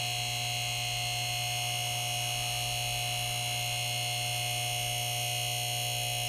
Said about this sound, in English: Push button turns it on and pumps it up.